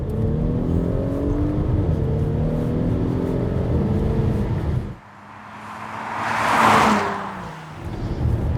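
A 2017 Audi SQ5 TFSI with an 8-speed automatic accelerates hard in second gear, the engine note rising steadily from inside the cabin, then a brief dip at a gear change and a surge of roaring, whooshing noise before it builds again.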